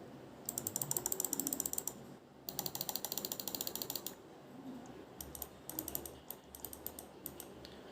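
Cosmic Byte Hyperian gaming mouse buttons clicked close up in quick repeated bursts of crisp, light plastic clicks, separated by short pauses, fairly quiet and with no speech.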